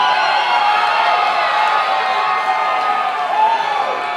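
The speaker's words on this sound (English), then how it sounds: "Anthony, you have a great crowd out here" A crowd at a fight event cheers and roars in a steady, dense wash of voices, loud and continuous throughout with no individual words standing out.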